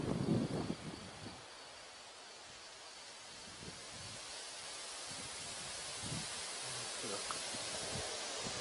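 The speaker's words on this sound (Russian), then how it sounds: "Ветерок сегодня порывистый, не сказать, что сильный, но ветерок есть." Gusty wind sweeps across an outdoor rifle range, a soft broad rushing hiss that stays low and steady after a brief louder buffet at the start; one short word is spoken.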